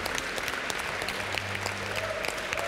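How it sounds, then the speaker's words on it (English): Moderate applause from an audience at an award ceremony, steady scattered clapping throughout at middling distance, with a low background hum and faint murmurs underneath. "So big round of applause to Dodge there."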